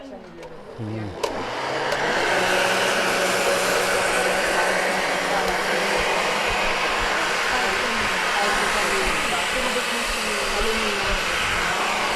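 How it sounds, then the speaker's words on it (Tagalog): Blender whirring steadily as it blends homemade plant-based milk, a loud continuous motor roar that starts after a brief lid clatter and holds constant to the end. "So, ito na, i-blend na lang uli natin."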